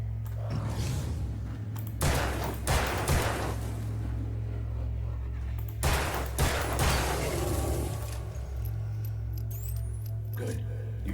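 Several loud revolver shots from Alan Wake come in spaced bursts, two close together near the start and another pair a few seconds later, over a low steady hum.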